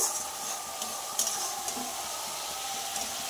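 Masala sizzles in hot oil in a pan while being fried, a steady close hissing crackle with a few soft stirring clinks, no talking.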